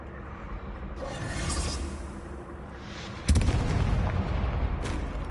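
A loud explosion booms in the Hogwarts Legacy video game: a sudden heavy blast strikes midway and leaves a rumbling, noisy tail, after earlier softer whooshes and rumbling; no voices.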